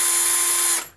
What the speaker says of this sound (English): you can alter the speed you're using it by the amount of pressure you got on the trigger